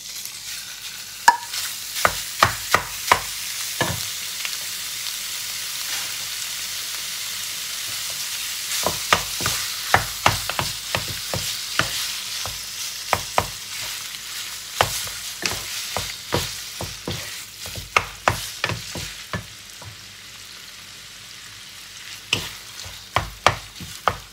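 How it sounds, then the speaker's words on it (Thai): Minced pork stir-frying in oil in a hot pan, a steady close sizzle broken by frequent sharp scrapes and clacks of a spatula against the pan, irregular and continuing throughout with no talking. "เราก็จะผัดหมูให้สุกก่อนนะคะ"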